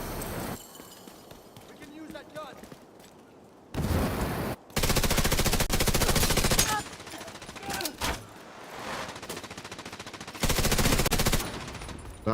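Bursts of SMG fire in the shooter game The Division 2, loud dense rattling volleys in several stretches, mixed with game dialogue and talk between bursts.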